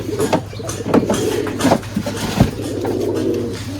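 Giribaj pigeons cooing close by, several soft repeated coos rising and falling over a low steady hum, with a few light clinks.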